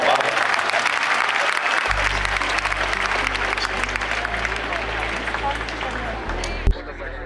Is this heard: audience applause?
yes